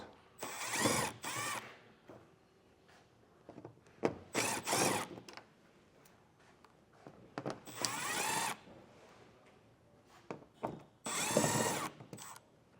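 A cordless power tool spins out four T25 Torx screws from a panel of a 2023 Volkswagen during a trailer hitch installation, with four short whirring bursts separated by quiet pauses and small clicks.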